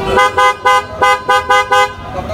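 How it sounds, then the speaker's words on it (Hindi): A Hyundai Creta-style car horn fitted on a Tata Punch sounds close and loud in seven short, evenly spaced toots, bright and two-toned, with brief gaps between blasts. "लास्ट हमने इस गाड़ी के अंदर लगाया था हॉर्न, जो कि था क्रेटा वाला हॉर्न"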